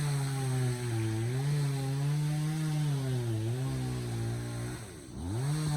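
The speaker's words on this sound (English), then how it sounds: "Finally got a weed whacker. We're gonna hit this shoreline and get her done." A string trimmer cuts weeds along a lakeshore with a loud, continuous, buzzing two-stroke whine. Its pitch dips and rises as the line bites into the growth, and it briefly drops near the end before revving back up.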